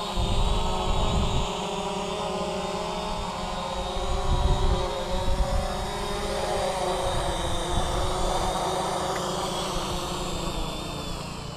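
Hubsan Zino H117s quadcopter drone flying in to land outdoors, a continuous close buzzing whine of small rotors with a thin high tone, rising and falling slightly as it approaches.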